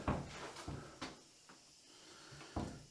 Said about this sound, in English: That door closes nice.